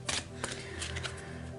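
Tarot cards are shuffled for a cross spread, quiet, close riffling flicks and soft slaps in short bursts with no talking.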